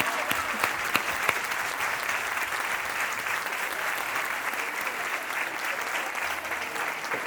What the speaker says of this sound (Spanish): Un aplauso para el Colegio Público García Lorca.